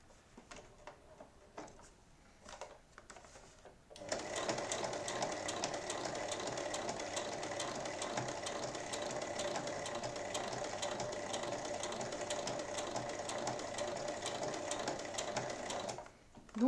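A sewing machine topstitches along the side of a large lined fabric drawstring pouch, 1 mm from the edge. A few faint clicks come first, then a steady, rapid stitching whir runs for about twelve seconds before stopping.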